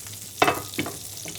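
Chicken pieces drop into a pan of hot oil and butter, giving a short loud hiss followed by a second smaller sizzle burst, close and without talk.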